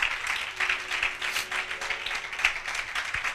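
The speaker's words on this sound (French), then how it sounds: "Acclamons très fort la parole du Seigneur." A church congregation applauds together, a dense, sustained clapping from many hands that fills the room, steady and fairly loud for a few seconds.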